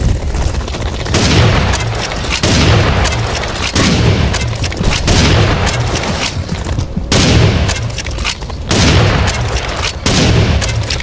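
Loud, relentless gunfire and booming blasts from a double-barrelled shotgun in the video game Serious Sam: Siberian Mayhem, heavy overlapping shots filling the whole stretch with only brief dips between volleys.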